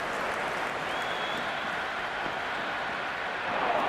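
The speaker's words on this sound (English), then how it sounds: "There's a buzz, a real buzz coming from the stands" Crowd noise in the stands of an IPL cricket video game match between CSK and MI, a steady, dense buzz of spectators with faint applause swelling slightly near the end.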